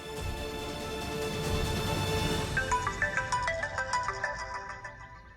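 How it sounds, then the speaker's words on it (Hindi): A phone ringtone plays loudly, a bright electronic melody that turns into a repeating rhythmic pattern of pulsing notes. "लॉयर का फोन है।"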